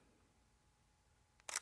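A Sony a6000 camera shutter fires once, a sharp, close mechanical click near the end after a stretch of near silence.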